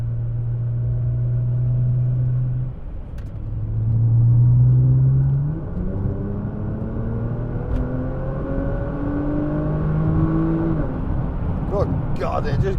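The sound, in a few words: Nissan GT-R accelerating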